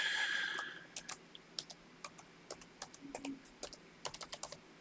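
A password being typed on a computer keyboard: a brief opening hum, then a close, irregular run of light key clicks in short bursts with small pauses between.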